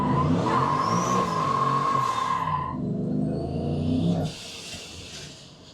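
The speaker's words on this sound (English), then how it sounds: "I could just floor it now and do a burnout" Ford F-150 pickup with a Coyote V8 and ProCharger P-1X supercharger held in a long burnout, a loud sustained engine roar with a rising whine that cuts off sharply to a quieter idle near the end.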